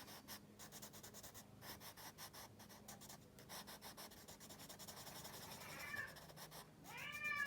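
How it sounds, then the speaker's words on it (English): A house cat meows twice, close by, near the end, over faint, steady scratching of colored pencils on paper in a quiet room. "Oh, there's my cat because she can tell time."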